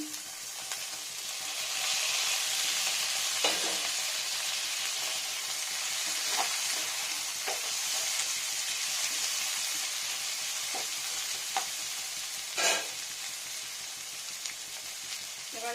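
Steady close sizzling of oil in a pan, with a few sharp pops and scrapes scattered throughout, and no voices.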